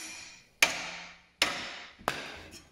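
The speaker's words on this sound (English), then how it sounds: "a light tap with the hammer should dislodge the ball joint from the knuckle" Three sharp metallic hammer taps with ringing decay, spaced under a second apart, knocking a ball joint loose from the steering knuckle of a Lexus GS during suspension repair.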